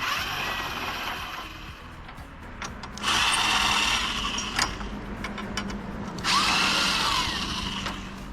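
A power driver backs T25 Torx screws out of an F150 Raptor-style mesh grille, with two loud whirring bursts of about a second each over a steady workshop background. No voices are heard.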